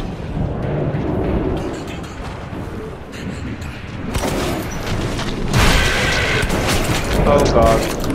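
A shotgun fires in Metro 2033 Redux, with loud booming blasts and rumbling mechanical noise in dense, dramatic game action.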